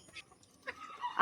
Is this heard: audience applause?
no